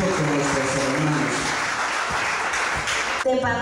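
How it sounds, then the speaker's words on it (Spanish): A church congregation at a flag and dance ministry service applauds vigorously, with clapping spread across the whole clip alongside shouting voices and some music. "Voy a darle otra vez los fuertes aplausos a nuestro Dios"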